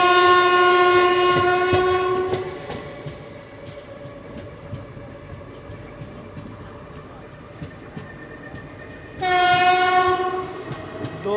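An Indian express train rumbles past a Superfast Express waiting on a station loop line, with loud horn blasts at the start and again near the end around a steady rolling clatter. A voice talks briefly in between.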